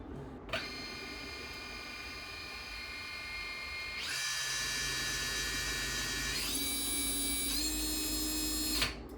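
An FPV drone motor on a thrust test stand spins up with a high electric whine, stepping up in pitch twice as throttle increases, loud and close with steady tonal harmonics.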